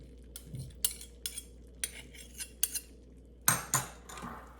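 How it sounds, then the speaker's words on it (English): A spoon stirs tomato paste and mustard into a soup pot, sharp metallic clinks and taps against the pot at irregular intervals, close and fairly quiet, with no talking. "I'm going to give it a quick little stir"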